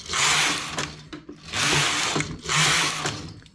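Knitting machine carriage sliding across the needle bed while knitting a cabled, ribbed cuff: three long rasping whooshes with mechanical clicks between them, close and loud.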